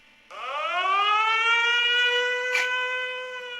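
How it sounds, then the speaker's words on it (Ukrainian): A loud civil-defense air raid siren wails steadily, rising at the start and holding a sustained tone, with no alert announcement spoken over it. "Увага! Повітряна тривога. Пройдіть найвище укриття."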